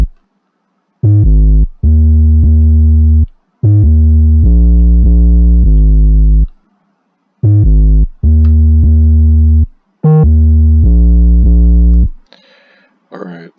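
Synthesized 808 bass tone, shaped with Fruity Wave Shaper and Blood Overdrive distortion, playing loud sustained gritty notes in a rhythmic pattern with short gaps between phrases, alone and up front.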